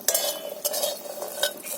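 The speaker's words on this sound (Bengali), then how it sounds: "লাল লাল করে বেশ বড়িটা আমি ভেজে নেব" Lentil dumplings (bori) frying in a hot pan, with light sizzling under a few short scraping stirs of a spatula against the metal, close and fairly quiet, no voices.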